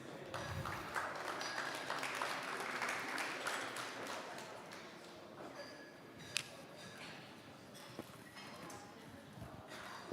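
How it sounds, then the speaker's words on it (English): A conference audience at an architecture awards festival claps steadily for a guest walking on stage, a dense, even patter of many hands that fades slightly toward the end, with scattered louder claps. "Give a round of applause for her, please."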